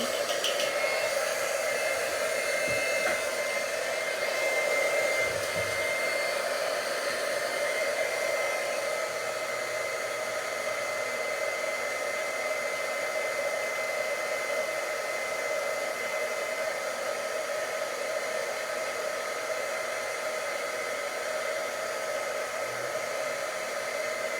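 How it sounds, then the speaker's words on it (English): An embossing heat gun runs steadily as it warms up, giving a constant close whirring blow like a hair dryer with no change in pitch or loudness. "Your embossing gun, you always want to heat up a little bit before you start."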